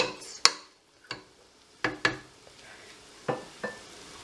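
Onions sizzle softly in a pan as a utensil stirs and knocks against it in sharp, irregular taps, about seven in a few seconds.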